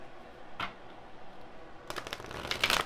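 Moonology oracle cards are shuffled: a single brief riffle early, then a longer, denser burst of crisp card flutter near the end, close and fairly quiet with no talking.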